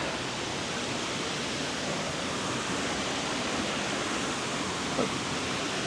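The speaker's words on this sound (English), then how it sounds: "A view of the water going down over the falls, big cliffs." Water pouring over the cliffs of Leichhardt Falls, a steady, dense roar that holds unbroken and evenly loud throughout, with no voices.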